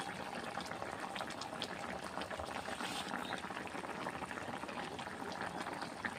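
Fish simmering in a pan, a soft continuous bubbling and hiss heard faintly and evenly throughout, with no speech.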